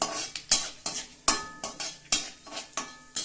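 Mustard seeds, cumin and fenugreek fry in oil in a pan. A quick series of sharp spoon scrapes and clinks, about three a second, sits over a faint sizzle, close up and without speech.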